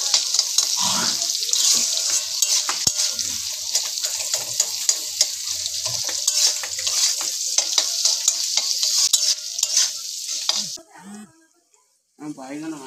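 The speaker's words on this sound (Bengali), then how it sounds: "আমি এতে দিয়ে দিলাম পেঁয়াজ আর অল্প একটু টমেটো কুচি রেখেছিলাম, দিয়ে দিলাম। এটাকে ভালো করে একটু ভেজে নেব।" Chopped onion and a little chopped tomato sizzle and crackle in a hot pan while being stirred for a vegetable chow mein. The frying is loud and steady for about ten seconds, then drops away, with brief quieter sounds at the end.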